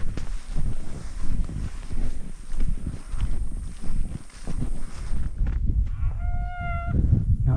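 Wind rumbles loudly against the microphone, then near the end a cow gives a drawn-out moo, clear and fairly close.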